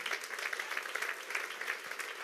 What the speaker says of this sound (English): Somebody clap your hands like that's pretty awesome